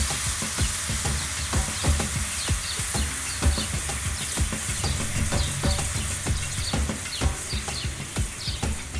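Steady close sizzling of chicken steak on an oiled grill pan over medium heat, with frequent crackles and pops and a few clicks of handling as it is moved about, no voices.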